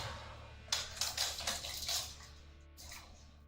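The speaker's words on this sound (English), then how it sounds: "That's just the sound of water bottle sliding off my back." A plastic water bottle slides off a person's back during a home workout, a short series of faint, close sloshing and scraping bumps with a softer one after.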